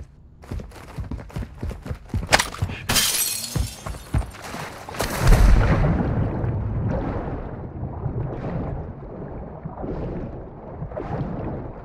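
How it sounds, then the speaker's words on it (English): Mortar strike in Call of Duty: Modern Warfare II: a burst of crashing, shattering impacts, then a heavy low boom midway that fades into a long rumbling, gusty tail. "Our mortar strike is inbound."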